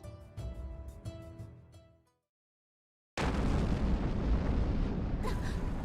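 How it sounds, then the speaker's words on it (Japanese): A loud, close blast bursts out in a Neptunia x Senran Kagura: Ninja Wars game scene after a short silence, a dense, sustained roar of noise with a sharper crack near the end. "この爆発音は？"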